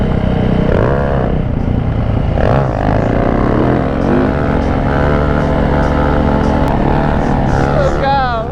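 A dirt bike engine revs loud and close during a wheelie attempt, its pitch rising and falling in repeated surges across the whole stretch, with voices partly mixed in.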